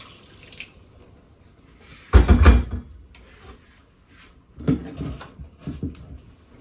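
A little water poured into a cooking pot of malabanos seasoned with crushed pepper, a short splashing pour in the middle followed by a few softer drips and clinks, close and alone.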